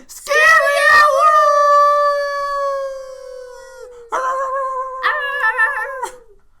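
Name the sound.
pet dog barking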